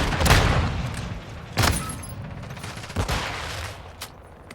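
Shotgun blasts from a Call of Duty match on a farm map, three or four heavy booms spaced about a second and a half apart, each with a short tail, over a steady background of game noise.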